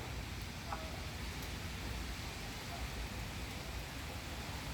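Heavy rain pours down steadily over fish ponds in Chonburi, Thailand, making a dense continuous hiss that stays even and unbroken throughout, with no voices.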